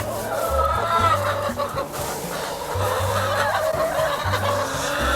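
Backyard hens cluck and murmur steadily inside a coop, several birds close by in a continuous, overlapping chatter with no pauses.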